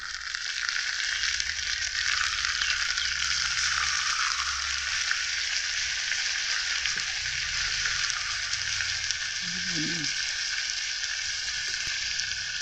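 Ground coriander and cumin paste frying in a hot pan for a chicken leg curry, a steady loud sizzle and hiss that continues unbroken, close up, with faint low clatter underneath and no talking.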